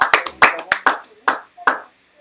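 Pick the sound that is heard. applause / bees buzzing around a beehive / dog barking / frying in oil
applause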